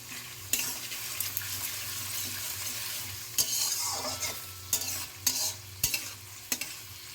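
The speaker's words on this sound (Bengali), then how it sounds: "পেঁয়াজটা প্রায় ভাজা হয়ে গেল" Onions frying in a pan for a Bengali chicken curry with potatoes, a steady close sizzle broken by sharp scrapes and clacks of a spoon stirring against the pan, with no talking.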